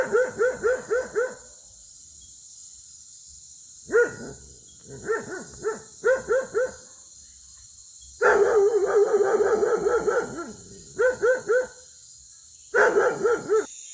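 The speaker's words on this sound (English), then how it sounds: "Bruce is also super vigilant as a security guard dog, and he will alarm in an aggressive manner" Bruce, a vigilant guard dog, barks aggressively near a hammock in loud, close bursts of rapid barks, several clusters separated by short pauses, with one longer sustained volley in the middle.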